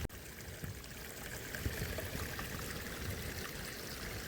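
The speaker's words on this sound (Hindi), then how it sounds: "तो फाइनली ये हमारी बोतल भर गई है अभी।" Water from a stream in an Uttarakhand field pours and gurgles steadily into a bottle being filled, a continuous close rushing trickle with no talk.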